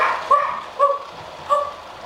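A baby imitates a dog barking, giving three short, high, yappy woofs spaced about half a second apart, loud and close with no other talk.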